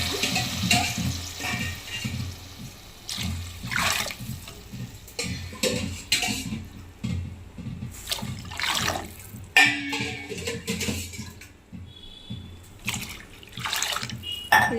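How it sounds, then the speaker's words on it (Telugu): Four glasses of water are poured into a pot for cooking rice in a home kitchen, with repeated splashing pours and gurgles separated by clinks and handling noises, close and fairly loud. "4 గ్లాసులు వాటర్ వేస్తాను"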